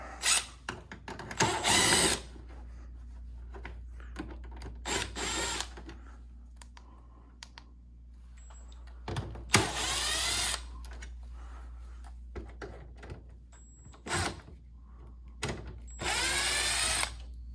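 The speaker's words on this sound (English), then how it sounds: "Now we've got 3 screws to remove, one here, here," A power drill spins screws out of the cover of a mini split air conditioner head unit, giving three loud whirring bursts separated by quiet stretches of handling and faint clicks.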